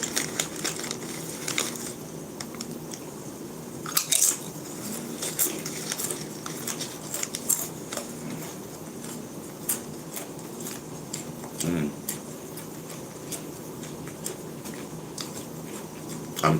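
Crunchy Doritos chips chewed close up, irregular crisp crunches and crackles repeating over a quiet background, with no talk.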